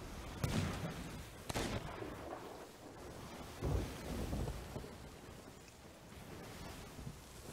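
Thunder rumbling through a storm in the video game Legends of the Veil, several heavy booming rolls over a steady wash of rain-like noise, loud and continuous with no talk.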